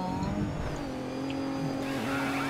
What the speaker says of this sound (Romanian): Hai să băgăm tare să se tureze.